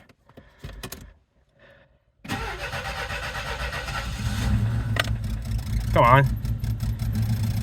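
A 1982 Saab 900 Turbo cranks and fires after a brief moment of quiet, then settles into a steady, close idle with a rising hum; a person speaks briefly at the start.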